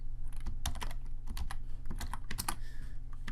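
A computer keyboard clicks in rapid, uneven taps and short key presses for several seconds, close up over a low steady hum, as keyboard shortcuts are struck to close browser tabs.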